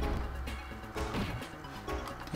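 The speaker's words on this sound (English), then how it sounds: "I wonder if we can crush this sarcophagus." A sarcophagus is crushed in the Cleopatra Fortune puzzle video game, giving a run of loud smashing crunches and thwacks layered over busy game audio, with no one talking.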